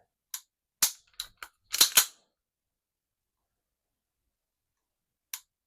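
A handful of sharp metallic clicks in a quick cluster, then silence and one final click; close and crisp, an Alpha Foxtrot Romulus pistol trigger resetting with a slightly gritty feel.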